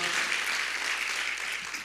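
A congregation applauds in a church service, a dense wash of many clapping hands heard close and steady for a couple of seconds.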